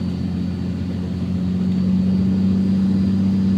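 Steady engine drone from a vehicle fitted with a built 48RE automatic transmission, heard from the cab as it pulls through the gears, with a constant low hum and no distinct shift break.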